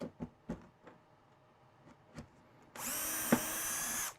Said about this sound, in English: Drill the hole all the way through.